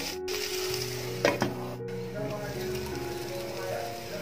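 Tomato cooking in a pan for a restaurant-style chicken curry, a continuous close sizzle with a couple of brief clatters from utensil or lid partway through.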